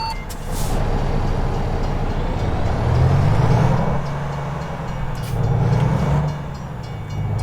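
A train passing in the video game American Truck Simulator: a heavy, continuous rumble swelling and easing, with a low droning engine tone rising in the middle and a faint high whine above.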